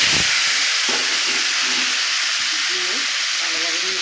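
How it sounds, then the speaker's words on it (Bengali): Beef pieces frying and being stirred in hot oil with a bay leaf, after potatoes were fried in the same oil; a steady, loud broadband sizzle runs throughout, with faint utensil scrapes and a little voice underneath. "ভালোভাবে নেড়ে চেড়ে মাংসটা ভেজে নিয়েছি"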